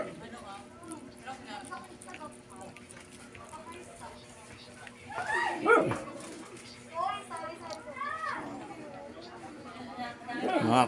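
A pet dog whimpers and gives short yips and barks under steady background chatter, with a few louder bursts partway through, indoors at a family meal.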